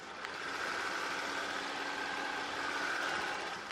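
A Hyundai Genesis sedan's 3.3 GDI engine idles steadily and quietly up close with the hood open, a smooth even hum with a faint whine and no talking.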